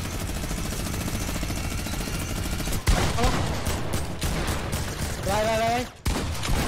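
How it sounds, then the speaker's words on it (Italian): A minigun spins and fires in Fortnite, a long sustained roar of rapid shots with a brief cutoff and restart, mixed with other game effects and a short whirring tone near the end. "ricarico e poi attivo il minigun"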